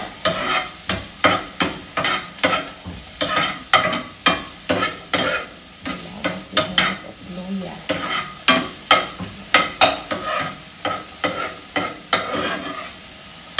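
Garlic, onion and ginger frying in a pan while a spatula stirs briskly, rapid rhythmic scraping strokes over a steady sizzle, close and loud with only brief pauses.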